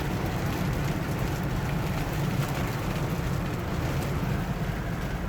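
Steady, dense rain patters on a 1976 Cadillac Eldorado without letup, a constant hiss from start to finish that sounds close and fairly loud.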